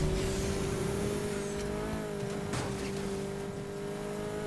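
Honda Civic racing engine in Need for Speed Heat, a steady sustained drone at high revs with a brief shift or skid around the middle, loud and continuous with no talking.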